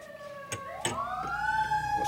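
A fire engine siren wails steadily, its pitch sweeping upward, with a few sharp knocks and a low road rumble underneath.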